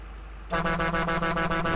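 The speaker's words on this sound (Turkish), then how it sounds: "Böyle bir güzel korna ekledik buna." A Ford tractor's steady engine idle in Farming Simulator 25 gives way to a loud, sustained horn blast that holds for over a second.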